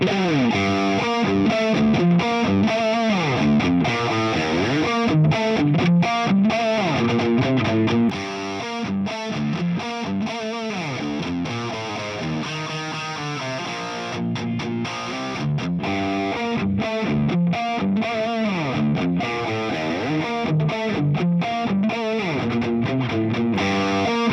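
A heavily distorted electric guitar plays a chugging riff, loud and continuous with steady rhythm throughout.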